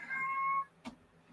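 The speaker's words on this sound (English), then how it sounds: "My cat's calling me." A cat calls out with a single drawn-out meow nearby, followed moments later by a sharp, brief click in an otherwise quiet room.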